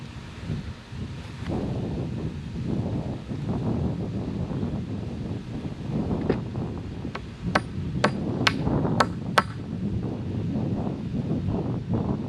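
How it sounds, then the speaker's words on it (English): Nails are hammered into a board for a cabin foundation outdoors, with irregular knocks at first, then a quick run of about six sharp ringing strikes, under light wind noise. "Not that nailing nails is exciting"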